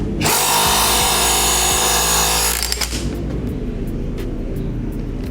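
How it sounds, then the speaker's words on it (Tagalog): A Makita cordless impact wrench works a size 19 nut loose with a loud, close continuous mechanical whir that cuts off after about three seconds, followed by faint clinks and handling noises. "So tanggalin naman natin yung dito sa torque drive, size 19."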